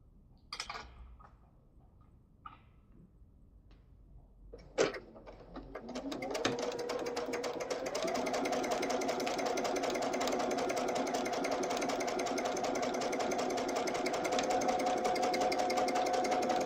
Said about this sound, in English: take this through the sewing machine.